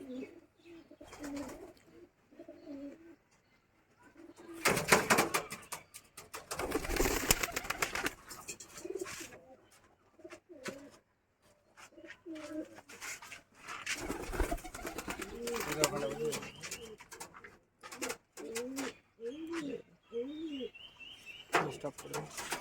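Pigeons coo in low, throaty bursts, repeated throughout, with a person talking intermittently nearby.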